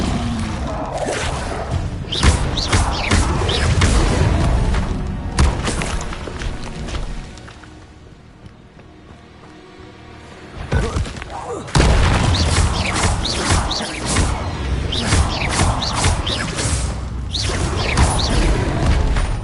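Incendio fire spell cast repeatedly in Hogwarts Legacy on PS5: loud bursts of booming, crackling impacts come in dense clusters, with a brief quieter lull midway before another round of heavy blasts.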